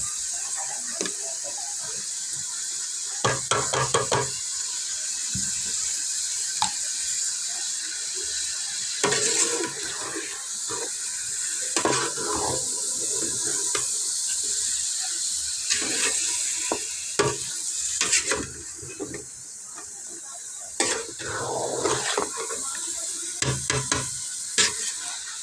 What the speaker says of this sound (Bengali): পেঁয়াজ ভেজে মাংসটা একটু নেবো